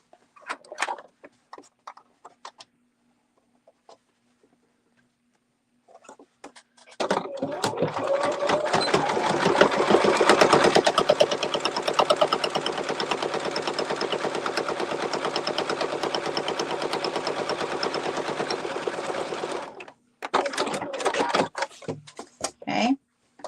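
Sewing machine running a long continuous top-stitch on a goose-shaped sewing project, a steady close whir lasting about thirteen seconds, framed by faint handling clicks and rustles before and after.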